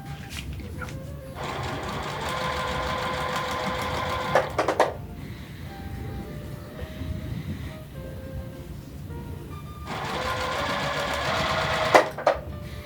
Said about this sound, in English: now we're going to be going over the first seam we made, plus right over the top of the second piece we sewed on